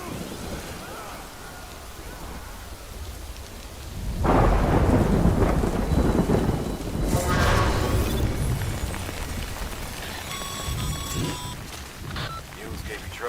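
Heavy rain pours with rolling thunder in the video game Death Stranding, a steady hiss of rainfall swelling as a loud thunder rumble breaks in midway and lingers, with the downpour continuing throughout.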